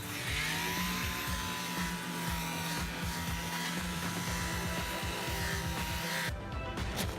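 A power sander works a car body with 220 grit sandpaper, a steady close buzzing whir that runs continuously before cutting off near the end.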